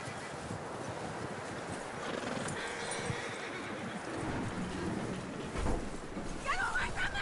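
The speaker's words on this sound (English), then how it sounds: "That looks like a decent horse." Horse whinnying and hooves clip-clopping in a Red Dead Redemption-style PS4 game, set against a continuous dense background of game ambience, with a brief louder burst near the end.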